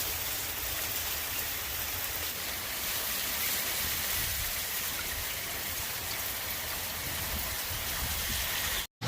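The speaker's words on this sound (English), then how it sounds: "It's like hailing and raining." Steady heavy downpour of mixed hail and rain with a dense patter of drops hitting surfaces, continuous and close, cutting off abruptly at the end, in a Washington rainforest.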